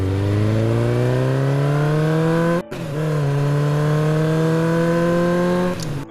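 Vehicles speed past on an open road, engines roaring loud and close with a steadily rising whine, a brief break, then a second surge of revving that carries on.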